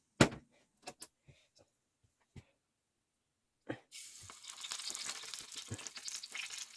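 Daisy fritters dropped into hot oil: a few sharp knocks and taps, then a sudden burst of bright, crackling sizzle that keeps bubbling steadily for the last few seconds, with no talking.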